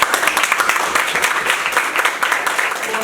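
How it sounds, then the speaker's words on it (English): An audience claps for a school group presenting at a quality-control convention, with brisk, fairly close clapping that holds steady for a few seconds and then tapers off slightly. "So clap for them."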